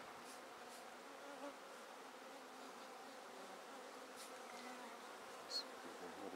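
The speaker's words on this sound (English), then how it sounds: "A lot of damp looking bees there." Damp honeybees buzzing over an open pagoda hive's box tops, a steady faint drone with no talking.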